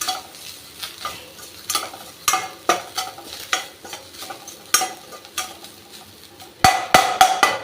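Ingredients for puttu being dry-roasted in a pan, with a utensil scraping and stirring in an irregular rhythm of close, distinct strokes over a faint background crackle. Nobody speaks.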